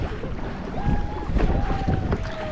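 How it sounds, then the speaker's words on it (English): Ocean kayak paddling on choppy waves near Kualoa Regional Park, Oahu, with close wind rush and splashing water, irregular slaps and swells, and faint tonal whistles over the constant noise. "The waves are getting choppy."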